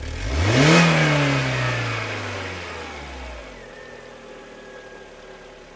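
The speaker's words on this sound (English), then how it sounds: "We start the engine and open the throttle valve." A car engine with a Bosch HFM mass airflow sensor revs sharply as the throttle valve opens, rising to a loud peak, then settles into a steadily falling tone that fades toward idle. No talk is heard.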